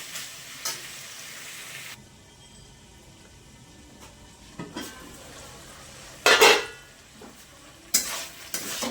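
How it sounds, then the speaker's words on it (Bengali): Ginger, garlic and tomatoes stir-fry in a pan, a steady soft sizzle broken by scraping spatula strokes and a few sharp clinks of metal against the pan. "এবার এটাকে ভালো করে কষতে হবে, আদা রসুনের কাঁচা গন্ধটা যাওয়া উচিত"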